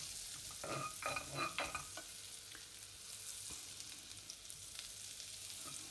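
Quiet sizzling of butter melting in a hot pot, with faint stirring or scraping noises early on, close and steady.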